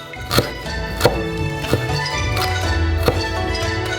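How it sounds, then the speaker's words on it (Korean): Several sharp knife taps on a board finely mincing fresh ginger, spaced unevenly, with a low steady hum underneath and no talking. "또 매우 얇게 다져주세요."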